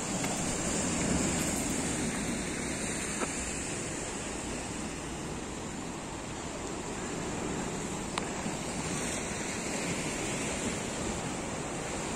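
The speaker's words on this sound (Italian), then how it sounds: "ora sono qui a godermi un po' di mare e spiaggia" Sea waves wash steadily onto a beach with rocks, forming a continuous broad surf roar with gentle swells and light wind over the microphone, with no talk.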